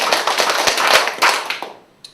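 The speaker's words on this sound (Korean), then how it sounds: "박수 한번 5번 쳐보세요." A church congregation claps hands in unison, about five sharp, close claps in a steady rhythm before trailing off into a few scattered claps.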